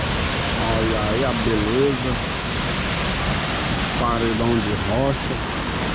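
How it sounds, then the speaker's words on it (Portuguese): Pedra Furada waterfall in Amazonas, beside a rock wall, pours with a constant, full rushing roar while someone talks over it. "estamos aqui na Cachoeira Pedra Furada."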